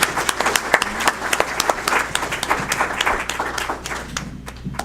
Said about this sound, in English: So let's give them a loud round of applause.